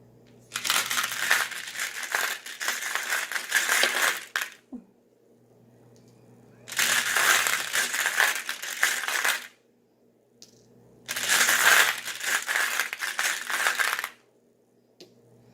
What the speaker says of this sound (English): we are going to clarify with the tarot stones. This is going to be a little bit loud